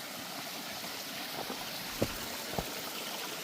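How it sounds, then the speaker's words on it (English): Continuous broad hiss of a forest stream flowing along the Gahuti Trail near Chatsworth, Georgia, steady and enveloping, with two soft knocks or splashes near the end and no talking. "Another very nice looking stream."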